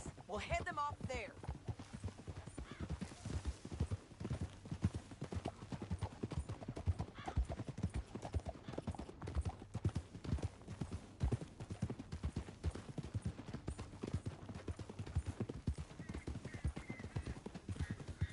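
Horse hooves clip-clop in steady rhythm in the Western video game Red Dead Redemption II, joined by a whinny, running continuously at moderate level with a character's voice speaking at points.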